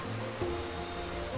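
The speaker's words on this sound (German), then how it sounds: "da ist bestimmt, ja, wieder ein Wasserfall" Steady wash of rushing water from a waterfall in the platform game Biped, with layered game music tones over it and a continuous level throughout.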